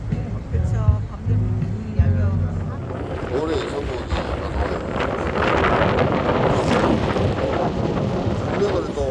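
Strong wind buffets the microphone on a yacht tour off Busan, a rumbling roar building and holding steady, with someone talking over it early on.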